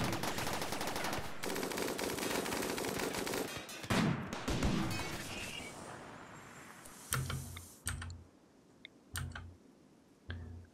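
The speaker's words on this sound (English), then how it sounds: "Oh my god, chain guns." Chain guns in the Rimworld video game fire in dense rapid bursts, loud at first, then breaking into scattered short volleys with quiet gaps between them.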